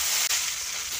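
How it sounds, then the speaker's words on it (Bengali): Hilsa fish pieces hit hot oil in a kadai, a steady, loud, close sizzling hiss that fills the whole moment without any voices. "কড়াইতে তেল দিয়েছি, গ্যাসটা অফ করে দেব। মাছগুলো দিয়ে দেব"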